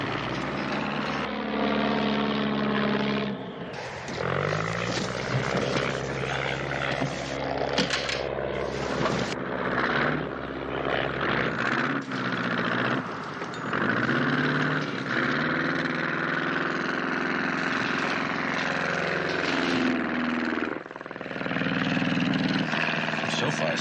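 A light aircraft engine and propeller drone steadily in flight, a loud continuous hum and buzz running under conversation between people aboard for the whole stretch.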